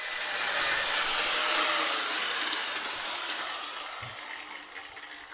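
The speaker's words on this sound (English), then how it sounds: "I'm going to grind a notch in here" A power grinder cuts a notch into an old cotter-pin bottom bracket on a Union bicycle, a loud, steady high-pitched whine that slowly fades and dips in pitch toward the end, with a faint knock partway through.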